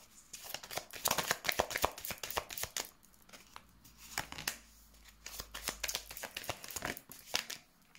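Tarot cards are handled and laid out on a table in a quick series of close, crisp slaps, flicks and shuffling rustles, with short pauses between bursts.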